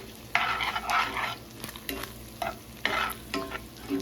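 A spoon scrapes and stirs hamburger-seasoned ground meat in a hot pan for spaghetti meat sauce, a series of distinct scraping strokes over a low sizzle, close and fairly loud, no talking.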